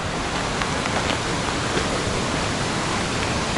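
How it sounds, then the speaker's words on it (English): A river in Armenia, called the Waterfall River, rushes in a steady, dense wash of water noise that stays even and unbroken throughout, with no voices. "You can hear the river."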